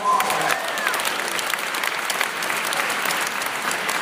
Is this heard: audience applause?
yes